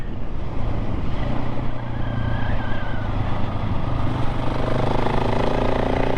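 KTM 690 SMC-R single-cylinder supermoto ridden on back roads, a loud, continuous engine and wind roar with slight pitch changes as it pulls along, no talk.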